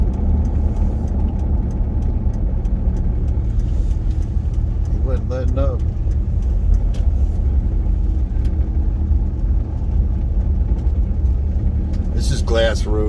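A truck engine rumbles steadily on a snowy mountain road, Glass Road toward Seven Oaks near Jenks Lake, in a continuous low drone from inside the cab. A voice talks over it.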